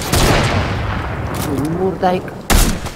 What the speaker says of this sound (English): Somebody else is shooting us.